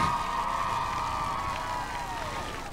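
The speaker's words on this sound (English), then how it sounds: "Let's give her a big clap for coming down" A large audience at a girls' Australian football championship event claps and cheers steadily to welcome a special guest, a dense, sustained wash of applause with a faint voice underneath.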